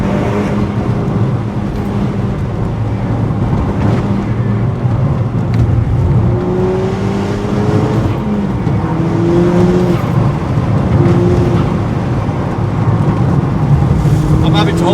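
A tuned Audi S3 8P Stage 2+ producing 369bhp accelerates hard from inside the cabin, a loud continuous engine drone with rising pitch sweeps as it pulls through the revs, and a voice talks over it.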